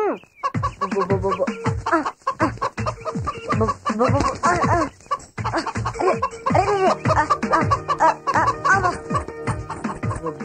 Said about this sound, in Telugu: ఆ కోడి పారిపోయింది, కొంచెం పట్టుకోరా